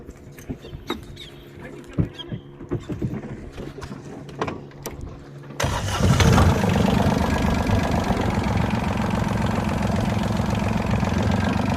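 A fishing boat engine on the Andaman Sea, running steadily and loudly from about six seconds in after a quieter stretch of scattered knocks and clatter, the drone continuing unbroken to the end.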